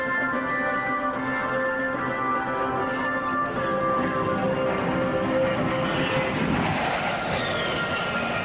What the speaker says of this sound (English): Now remember, this is not a contemporary biplane.